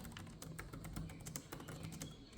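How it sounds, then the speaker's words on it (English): Quiet typing on an HP 15-fd0xxx laptop keyboard with high keycaps, a quick run of light, clicky keystrokes in an uneven rhythm, heard close and alone. "They are high, we can hear them, but let's have a type test,"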